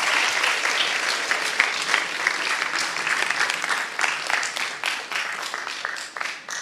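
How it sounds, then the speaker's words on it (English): Audience applause in a physics-of-sports presentation, a dense, steady wash of many hands clapping close by that holds throughout and tapers slightly at the end. "So should we give a round of applause for Jordan?"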